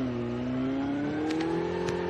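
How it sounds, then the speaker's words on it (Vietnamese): A motorbike engine in a video game, a steady droning hum that rises gradually in pitch as it revs, continuous and moderately close. "xe máy nè"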